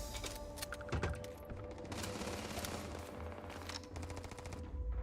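Gunfire in Starfield from an enemy shooting down from a ledge: dense, rapid crackling shots with a sharp burst near the second mark, set against a busy game soundscape.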